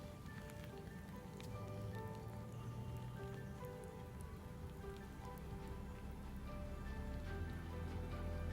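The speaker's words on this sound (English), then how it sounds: "see what happens when the rain falls on the items in the watershed" Simulated rain falls onto a small model watershed with toy cars and houses, a soft, steady patter of drops with low rumbling underneath, faint and continuous, with no one speaking.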